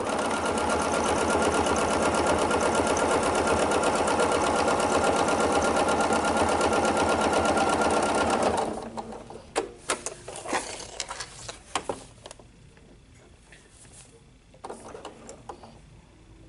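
A sewing machine stitching with a ruler foot during ruler quilting work on a table runner runs at a steady fast rhythm for about eight seconds, then stops, leaving scattered faint clicks and handling noises.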